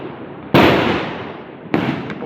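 Diwali firecrackers burst in two sharp, loud blasts, the first a long crackling roar that fades slowly and the second a shorter bang near the end, with no talk.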